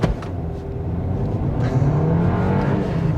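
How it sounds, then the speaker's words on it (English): A 2024 VW Golf 2.0 TSI 4motion Black Edition holding revs on launch control at a standstill, the engine droning loud and steady close by, with the pitch rising slightly. "foot on the brake, throttle down, launch program active"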